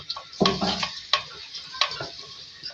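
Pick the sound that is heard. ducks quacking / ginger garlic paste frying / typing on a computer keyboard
ginger garlic paste frying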